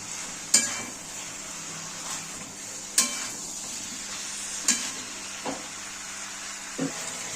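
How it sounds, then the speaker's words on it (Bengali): Vegetables and spices sautéing in a pan for a katla fish curry with drumsticks, raw banana and potato: a steady soft sizzle broken by a few sharp clinks of a spatula against the pan, close and fairly quiet. "সবজিগুলো দিয়েও ভালো করে আরেকটু কষিয়ে নেব"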